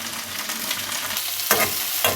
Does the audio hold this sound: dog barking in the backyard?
no